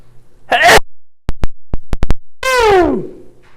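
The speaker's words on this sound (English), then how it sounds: "There might be a lot of sneezing." Two loud, close sneeze-like bursts, each a sharp breathy blast, with a few quick clicks in between.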